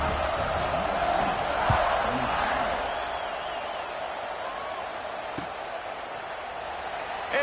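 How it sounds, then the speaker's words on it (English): A large football stadium crowd roars steadily at kickoff, a dense, sustained wash of cheering with faint whistles, heard from within the stands. "this crowd now ready to get behind them"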